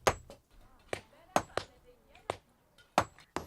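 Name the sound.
hammering stones by hand at a quarry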